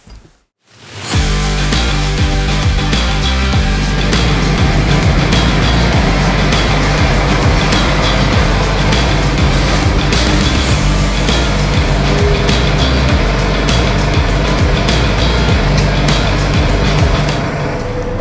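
Valtra tractor driving off toward a field, a loud continuous engine and rolling rumble heard from inside the cab, starting abruptly after a moment of near silence and running steadily throughout.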